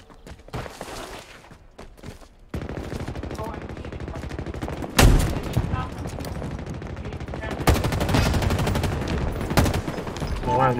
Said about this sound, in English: Why is my gun firing like that?